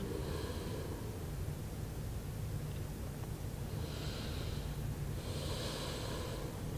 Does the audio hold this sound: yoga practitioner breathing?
yes